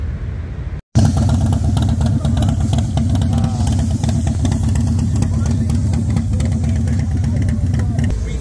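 Motorcycle engines idle and rumble steadily at Daytona Bike Week among Harley-Davidson, Indian and Kawasaki bikes, a loud continuous low drone that starts after a brief dropout, with people talking over it.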